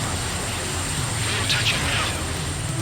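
A rescue helicopter flies near Mangawhai Heads, heard as a steady, broad engine and rotor roar at moderate distance that stays constant throughout, with a voice likely talking over it.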